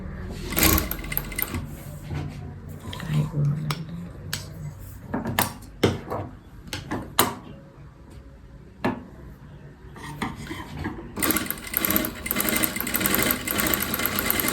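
Sewing machine stitching around the lining edges of a Katori blouse, its motor whirring in uneven bursts with clattering and pauses as the fabric is turned, ending in a longer steady run.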